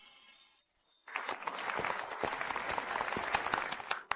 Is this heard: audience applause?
yes